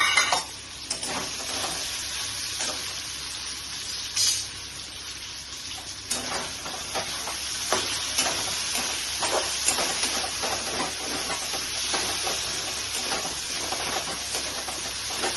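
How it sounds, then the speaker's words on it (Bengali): Soybean chunks frying in a pan, giving a continuous bright hiss with scattered crackles and stirring clatter, close and moderately loud with no one talking. "ভেজে নিচ্ছি, সয়াবিনগুলোকে ভেজে নিচ্ছি"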